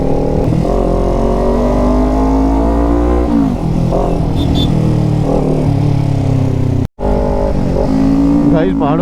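A motorcycle engine drones and revs through gear changes while riding a mountain road, steady and loud with wind rush, as a rider talks over it.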